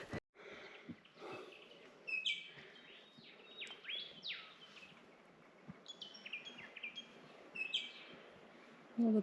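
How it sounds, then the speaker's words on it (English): Birds chirp and sing in repeated bright phrases along a hiking track in Tasmania's Pine Valley, moderately near over a soft background hum, with no talking. "All the birds and the bees are out."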